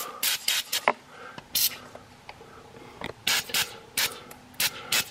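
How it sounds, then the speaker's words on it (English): Lubricant sprayed onto the front end bolts of a Jeep Patriot, heard as short hissing bursts in an irregular series up close, with faint clicks and handling noises between them. "I'm going to lube up some of these front end bolts"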